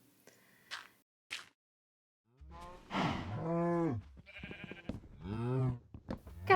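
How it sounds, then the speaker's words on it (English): Sheep bleat in the Minecraft Bedrock video game, a few short faint calls followed by louder, wavering bleats close by with gaps between them, heard without talk. "Come on, sheep and cows."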